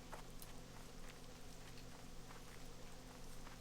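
Steady rain falls in World of Warcraft Classic, a constant soft hiss and patter over a low droning ambient bed that continues without a break.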